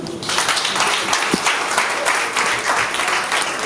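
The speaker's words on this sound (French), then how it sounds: "Sous vos applaudissements." Guests applaud at an official wedding ceremony in Congo, loud dense clapping from a crowd that holds steady throughout, close and full.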